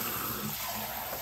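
Kitchen faucet with a powerful sprayer running water while a bowl is rinsed, a brief, steady hissing gush that splashes and shifts slightly as it hits the bowl, close and alone.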